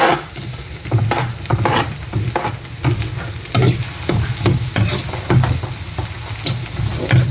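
Onions sizzle in butter in a pot for a garlic butter shrimp dish, with a steady close frying hiss and repeated scraping stir strokes throughout.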